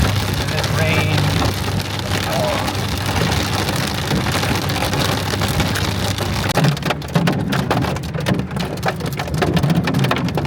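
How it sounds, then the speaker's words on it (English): Heavy rain falls during a road trip in Texas, a loud, constant roar of drops hammering a vehicle, with a low rumble underneath and a few sharper patters near the end. "And then in Texas it rains."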